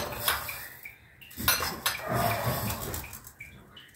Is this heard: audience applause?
no